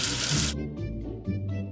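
A cartoon water tap gushes to rinse soap off, a loud bright spray lasting about half a second and then cutting off, followed by soft musical tones and light effects.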